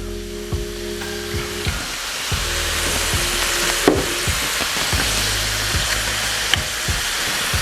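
Beef stroganoff sizzles in a pan as Worcestershire sauce goes in, a continuous close frying hiss broken by repeated scraping stirs and a few brief clatters, with no talking.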